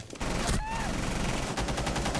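Dense video game gunfire in a fast shooter match, loud, continuous bursts of automatic fire packed together with a brief gap partway through, close and dominant over faint voices.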